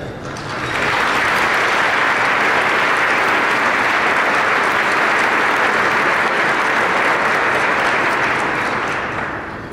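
Audience at a luncheon applauds to welcome a speaker, a dense, loud burst of clapping that rises within a second, holds steady for several seconds, then begins to fade.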